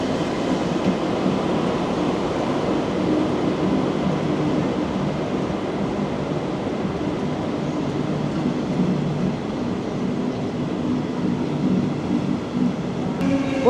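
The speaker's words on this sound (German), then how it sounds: "da kommt unser Regionalexpress nach Neustadt" A Regional Express train bound for Neustadt and continuing on to Hannover rolls into a station with a steady, loud rumble of wheels and cars, faint voices underneath.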